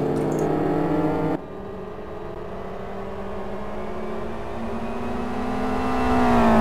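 Racing-game GT1 race cars roar steadily, an engine note climbing toward the end, with a sharp cut early on as cars clatter over the curbs.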